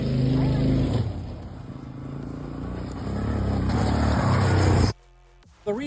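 A Honda big wheel motorcycle engine idles right after a kick start, a close, steady putter that swells slightly before cutting off abruptly near the end, with someone talking over it.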